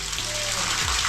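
Water gushing through a freshly drilled hole in the side of an underground manhole, a loud, continuous rushing spray heard close with a voice speaking over it.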